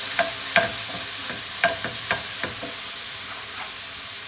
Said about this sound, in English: add the garlic, give that a bit of a stir, add the tomatoes,